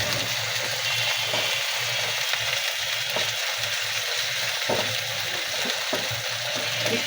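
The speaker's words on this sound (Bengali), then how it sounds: "পেঁয়াজ কুচি দিয়ে এখন একটু নেড়ে একটু লাল লাল করে নেব।" Chopped onion frying in oil in a pan for an aloo chana iftar dish, a steady loud sizzle with occasional scraping stirs of the spatula running through.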